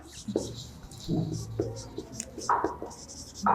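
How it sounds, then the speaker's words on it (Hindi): A teacher writes notes on a board in a live history class, with short scratchy strokes mixed in with the teacher's speech. "यहाँ पे नोट डाउन करके लिखेंगे"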